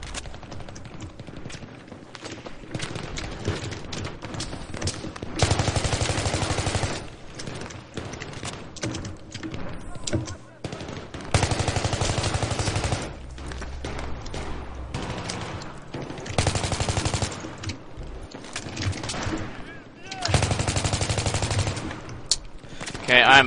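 Automatic gunfire from the Battlefield 3 beta, loud bursts of rapid shots repeating every few seconds, with quieter single shots and faint talk in between.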